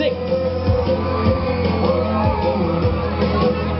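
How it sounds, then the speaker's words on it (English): A large crowd of supporters screams and yells continuously at a pageant, a loud, dense wall of shouting and whoops that never lets up. "I hear a lot of screams."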